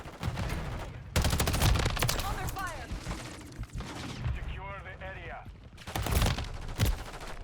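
Assault rifle gunfire in the video game Modern Warfare III, loud rapid bursts of automatic shots in several volleys, with brief voiced sounds and game effects between them.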